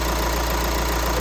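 VW Transporter T5.1 140 diesel engine running just after start-up, with a turbo actuator fault; a steady close idle drone, loud and continuous.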